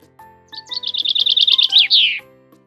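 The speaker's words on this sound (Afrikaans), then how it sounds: "'n Voeltjie roep na haar en vra" A small bird calls with a quick run of bright, high chirps that speed into a trill and end in a downward sweep, close and clear over a faint, soft musical background.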